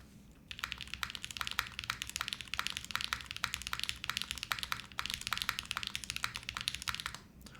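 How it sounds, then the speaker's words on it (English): Someone types on a QK Neo65 mechanical keyboard, producing soft, rapid, close-up key clicks in a steady irregular stream for several seconds, with no voices. "It's a nice soft typing experience."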